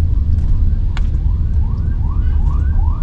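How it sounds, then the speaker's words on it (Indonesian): A Toyota Innova ambulance siren passes on an Indonesian road, its rising wails repeating in a steady rhythm and growing louder over constant car-cabin road rumble, with no talking. "Ambulansnya Innova dong, ribut."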